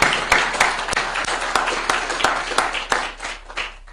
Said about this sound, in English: That's actually a round of applause for Iowa.